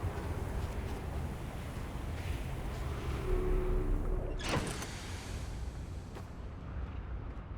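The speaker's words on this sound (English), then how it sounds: "Yeah, the sun's about to explode." A deep, loud roaring wash as the sun explodes in the space exploration game Outer Wilds, swelling over several seconds with a sharp whooshing burst near the middle before the rumble eases.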